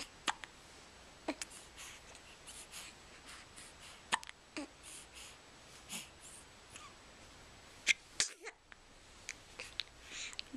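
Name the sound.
baby hiccups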